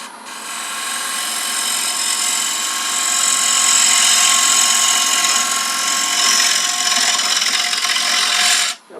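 A bowl gouge cuts into a wooden paten spinning on a lathe, plunging straight down from a bead in one loud, continuous scraping whir that stops abruptly at the end.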